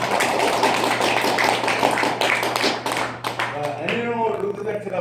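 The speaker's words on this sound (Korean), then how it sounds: "잘했다고 생각하시는 분만 박수" Lecture audience clapping in response to the speaker, a dense burst of applause for about three seconds before a voice begins talking.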